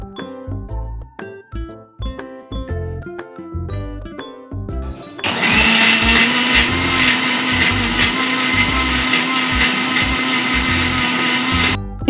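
A kitchen mixer grinder blends green masala paste with cashews for green chicken, starting abruptly partway through as a loud, steady whirring grind after a stretch of music, then running continuously to the end.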